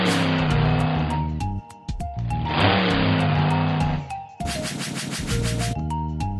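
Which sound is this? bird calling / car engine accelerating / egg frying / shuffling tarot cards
car engine accelerating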